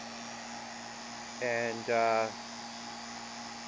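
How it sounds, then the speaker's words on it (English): A vacuum pump steadily hums as it pulls a vacuum on a heated oil regeneration module, a constant close mechanical drone with a brief burst of speech over it partway through. "pulling a vacuum on it with a vacuum pump"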